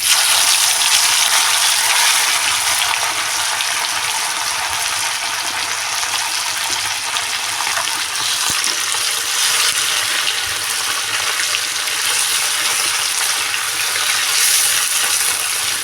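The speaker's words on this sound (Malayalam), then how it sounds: "ചൂടായി നമുക്ക് മീനിട്ട് കൊടുക്കാം." Sardines (mathi) sizzle steadily in hot oil in a pan on a stove, a loud, dense, continuous crackling hiss from start to finish with no talking.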